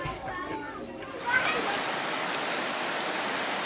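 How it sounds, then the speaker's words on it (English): Steady rain falls outdoors in Kapchorwa, Uganda, a dense continuous hiss that swells loud after a brief stretch of quieter sound with faint voices at the start. "As you can see again today, we've got rain."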